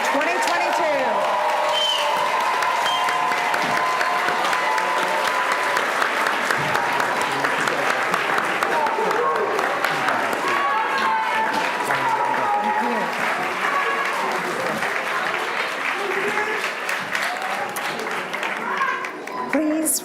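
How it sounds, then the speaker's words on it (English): A large crowd applauds steadily and loudly at a nursing pinning ceremony, sustained clapping with some scattered cheers throughout. "Let's have a round of applause for the fall nursing class of 2022."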